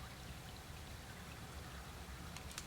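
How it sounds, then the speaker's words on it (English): A creek runs high with snowmelt, making a steady, low rushing and trickling wash of water that sounds faint and distant, with no voices. "There's a lot of water rolling down the creek today too,"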